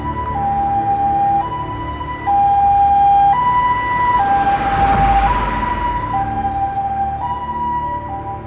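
A close, loud ambulance siren wails in alternating two-tone cycles, swelling as it passes with a broad rush of road noise, and carries on alone without any talking.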